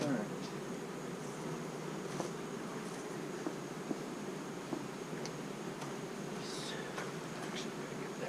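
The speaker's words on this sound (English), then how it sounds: "there's one bee. She is committed to the cause." A lone honey bee buzzes close to a beekeeper at a hive, a faint steady drone with brief flyby swells and small ticks over quiet background.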